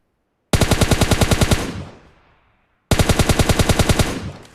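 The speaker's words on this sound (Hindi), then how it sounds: "यह हमें बहुत परेशान करता है, इसे हम 30-40 गोलियां मारते हैं।" Automatic weapon fire in PUBG Mobile Lite: two long rapid bursts of evenly spaced loud shots, the first trailing off into a fading echo before a short pause and the second burst.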